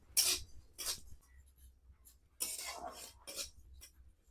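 Metal scrapes against a wok as rice is stirred, a few quick scratchy strokes in short bursts with brief pauses between them, close and fairly quiet.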